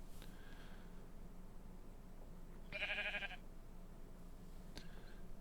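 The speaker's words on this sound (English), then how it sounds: "Maybe I should have silenced the sheep." Sheep bleat in the Minecraft game world, one loud bleat in the middle with fainter bleats near the start and end over a steady low background hum.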